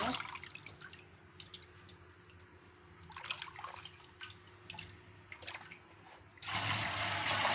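Running tap water splashes steadily over a batch of goose grass greens being washed by hand, with scattered drips and rinsing bursts, then the flow grows louder and fuller near the end; no talking.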